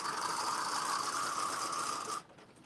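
Home sewing machine running a zigzag stitch on a garment, a steady close mechanical whir with a rapid ticking rhythm that holds for about two seconds, then cuts off abruptly.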